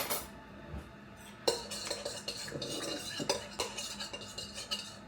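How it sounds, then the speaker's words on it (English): A spoon stirs a honey-sweetened mixture for keto egg white bread, scraping and clinking against the bowl in irregular bursts over soft background noise, with no talking. "So I'm going to stir it up."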